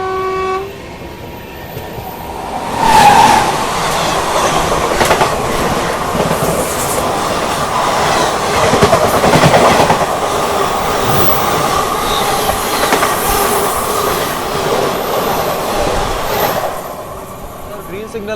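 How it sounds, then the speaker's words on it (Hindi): Bihar Sampark Kranti Express running non-stop at speed, a loud continuous roar of wheels and carriages with rhythmic clatter and a horn blast, heard close from aboard, with someone talking over it. "भाई क्या भाग रही है भाई गाड़ी, नॉन स्टॉप।"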